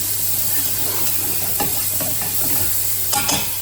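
Onions and thyme sprigs saute in a pan with a pinch of salt for sausage and beans. A loud, continuous close sizzle carries a low steady hum beneath it and a couple of brief stirring scrapes near the end.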